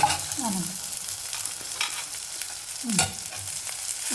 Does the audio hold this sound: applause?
no